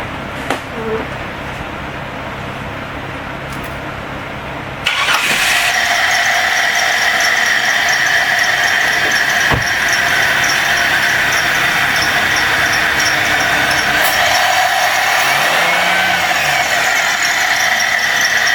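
A car engine is fired up after a fuel injection cleaning: a quiet spell, then an abrupt start around five seconds in, followed by a loud, steady idle with a rattle and occasional knocks, and brief speech underneath.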